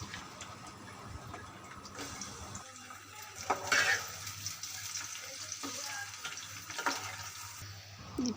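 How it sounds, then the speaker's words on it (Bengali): Onions frying in mustard oil in a home kitchen while making mustard hilsa, a steady close sizzle with occasional stirring clatter and louder bursts, no one talking. "পেঁয়াজ ভাজা হয়ে গেছে"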